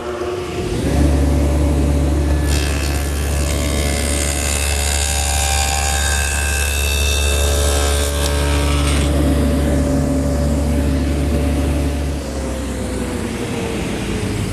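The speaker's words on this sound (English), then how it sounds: "I've set up my table saw with my dado head cutter for a 5/8 width and a 1/4 inch depth" A table saw fitted with a dado head cutter spins up and cuts a 5/8-inch-wide, 1/4-inch-deep dado into a wooden gusset, a steady motor hum joined by a harsh rising whine during the cut, then winding down.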